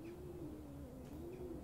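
A pigeon coos in a soft, wavering low call that rises and falls, fairly faint and steady in an ambient game scene in the horror game Summer of '58: Haunting Shadows.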